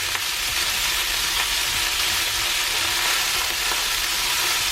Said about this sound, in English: This is the fried part of fried rice. Make sure you keep it moving.